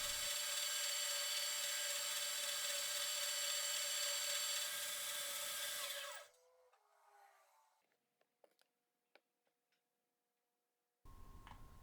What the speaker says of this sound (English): working the other end of that piece of pipe with yet another carbide cutter